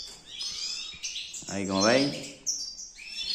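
Goldfinches kept for breeding chirp and twitter steadily near a Spanish-speaking man, whose voice briefly overlaps the bright, continuous birdsong.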